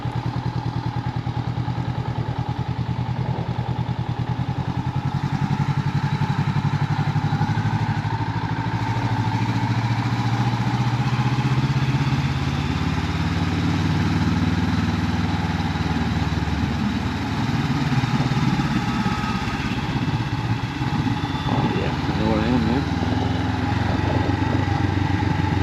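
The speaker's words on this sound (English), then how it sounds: "The mic's picking up the pops and bangs off this exhaust." A Honda NX500 motorcycle rides along country lanes in Wales, its engine droning steadily and loudly up close for the whole stretch, with a few irregular crackles and pops from the exhaust breaking through the continuous rumble and wind noise.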